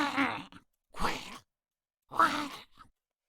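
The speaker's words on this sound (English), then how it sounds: "And when the chomper dies," Dying groan of the chomper creature in The Explorer: 3D Game Kit, three separate throaty voiced bursts of under a second each, growling and strained, with a short clipped tail at the end, loud and close with silence between.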